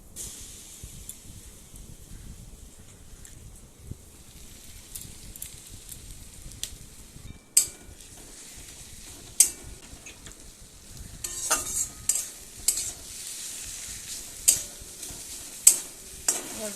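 Soft sizzling of ground spice paste frying in a pan with intermittent scraping and stirring clatter, spatula knocks growing more frequent toward the end.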